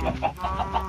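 A chicken in the video game Minecraft gives a few quick, soft clucks in a short rhythmic run, close and clear with no talk.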